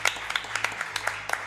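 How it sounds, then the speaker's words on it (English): A live audience at a Mario speedrunning charity event gives a short burst of scattered applause, the claps soft and slightly distant. "Give him a round of applause, everybody."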